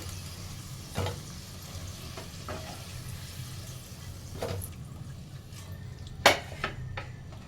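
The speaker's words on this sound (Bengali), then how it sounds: "এটা কিন্তু আমি এবার একটু চাপা দিয়ে ভেজে নেব আমার আলুগুলো কিন্তু সবকটা ভালোভাবে ভাজা হয়ে গেছে" Potatoes frying in oil in a covered pan give a steady low sizzle, broken by a few sharp utensil clinks and pan knocks, the loudest near the end.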